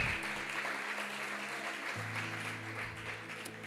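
A church congregation applauds in worship, a soft, fairly distant patter of clapping over sustained keyboard chords that shift midway.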